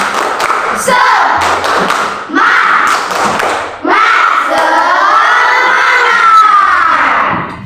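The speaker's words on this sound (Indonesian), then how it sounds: "Ibu minta tepuk semangat" A classroom of children doing a rhythmic spirit clap: bursts of hand claps and thumps in patterned groups, mixed with shouting and cheering voices, close and loud throughout.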